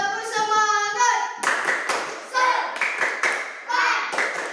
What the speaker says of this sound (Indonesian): Beri tanda tepuk semangat.